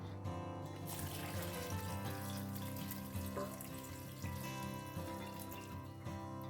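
Water runs steadily into a pan of pav bhaji vegetables during cooking, a continuous close pouring and trickling wash with no talk.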